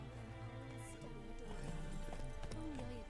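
Hooves of a horse named Roach clip-clop and gallop in a video game, a quiet rhythmic pounding beneath game music and tones.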